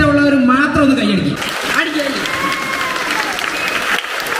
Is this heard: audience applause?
yes